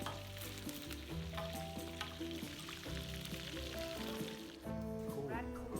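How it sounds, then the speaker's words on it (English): Rat meat frying in a large amount of oil until deep brown, giving a steady, continuous sizzle that runs throughout beneath background music. "That's a lot of oil. So she's going to fry it until it's a deep brown color."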